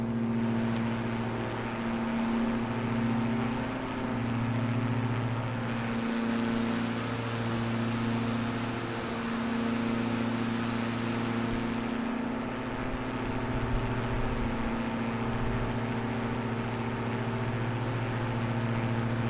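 An aircraft engine runs in Microsoft Flight Simulator 2024 during a simulated single-engine failure, giving a steady, even drone with a tonal hum that holds throughout, with no voices over it.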